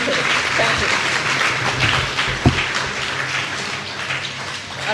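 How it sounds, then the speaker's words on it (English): An audience applauds at a book launch with dense, continuous clapping at close range, and a voice is heard faintly over the applause. "A round of applause one more time for Auntie Gordon."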